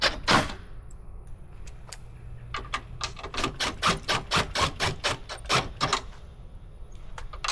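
An impact drill drives 10mm screws back in while refitting a front curb view camera on a 2020-2024 Chevy Tahoe, Suburban or GMC Yukon, giving rapid close bursts of sharp hammering clicks with short pauses between them and no talk.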